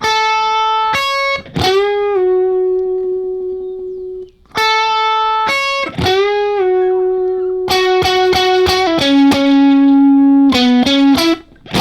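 An electric guitar with a slightly driven tone plays a song's solo, starting with sparse sustained notes and building into quicker, denser runs, loud and alone.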